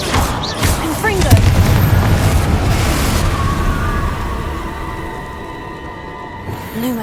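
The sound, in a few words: Confringo blasting spell explosion from Hogwarts Legacy video game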